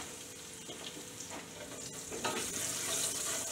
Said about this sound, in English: Then you stir.